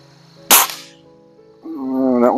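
A Webley air rifle fires a single sharp, loud shot at a target, its crack fading over a short tail, then a hum or voice-like tone rises near the end.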